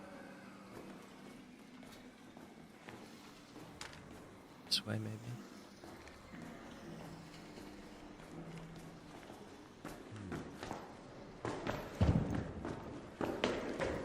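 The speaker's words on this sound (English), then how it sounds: "Where am I hearing these footsteps?" Footsteps in the Arc Raiders video game patter irregularly at moderate distance, growing busier toward the end, with someone talking over them.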